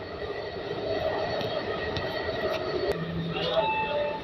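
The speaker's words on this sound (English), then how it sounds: "You can see train is running at 115 kmph right now." Namo Bharat regional rail train running at speed between Delhi and Meerut, heard from inside the coach as a steady broadband rumble and whoosh with faint rattles and clicks, continuous and moderately loud.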